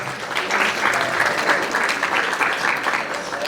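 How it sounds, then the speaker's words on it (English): A roomful of workshop participants applauding a merchandising team, dense steady clapping at moderate loudness throughout, with a few voices mixed in. "Team 3, round of applause."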